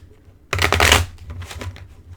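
Oracle cards are shuffled by hand close to the microphone, a dense burst of rapid riffling clicks followed by a few softer flicks.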